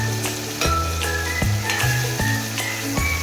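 Cluster beans (gavar) sizzling as they fry in oil in a home kitchen pan: a steady close hiss that runs the whole time, with a low tonal hum and occasional soft knocks beneath it. No one speaks.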